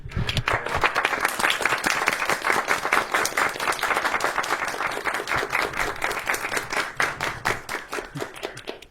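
An audience bursts into sustained applause, dense steady clapping from a crowd filling the whole stretch and thinning slightly toward the end.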